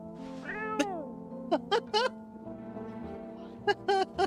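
A cat meows several times in short, close, fairly loud calls. The calls come with irregular gaps over a faint background.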